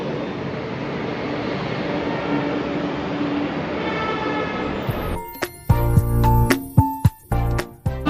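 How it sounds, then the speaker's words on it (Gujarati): A Mumbai metro train passes through a station with a loud, steady roar and rumble that gives way to sharp metallic clanks, squeals and beeps as it pulls away. "સ્ટેશન ઉપર જસ્ટ પહોંચ્યા ને અમારી નજરની સામેથી મેટ્રો ગઈ"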